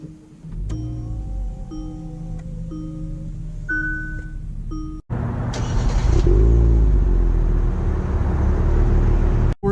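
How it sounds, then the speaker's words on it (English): A 2018 Kia Stinger starts with low idle tones, then pulls away with a loud, rising engine rumble up close. "We're setting off here in the all-new 2018 Kia Stinger"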